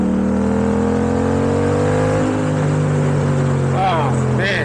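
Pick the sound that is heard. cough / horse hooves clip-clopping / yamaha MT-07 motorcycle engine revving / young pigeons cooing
yamaha MT-07 motorcycle engine revving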